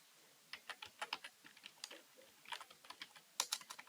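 Quick irregular keystrokes on a computer keyboard, clicking in short bursts as a search is typed on a Windows machine, close and fairly quiet with no talking.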